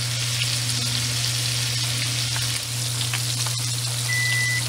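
A steak sears in a hot pan, giving a steady, dense sizzle and crackle that holds close and loud from start to end, with no talk over it.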